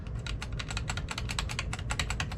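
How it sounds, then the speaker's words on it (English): Someone rapidly and repeatedly hits the F8 key on a computer keyboard while an old gaming PC powers up, giving a steady, dense stream of close, crisp plastic key clicks with no pauses. "Hitting F8 like it's going out of style."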